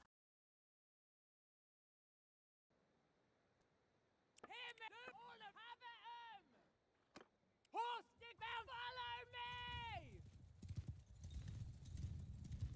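Cavalry horses in the medieval combat game Bannerlord, with hooves clip-clopping and repeated loud neighs and whinnies rising over a faint background rumble, starting after a silent opening.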